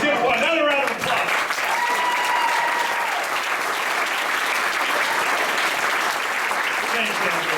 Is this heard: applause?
yes